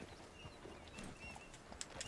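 Horse hooves clip-clop faintly in the Red Dead Redemption 2 video game, a soft, brief run of muffled steps in a quiet scene.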